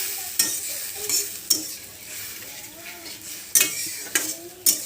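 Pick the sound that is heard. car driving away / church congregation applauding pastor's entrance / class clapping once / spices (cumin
spices (cumin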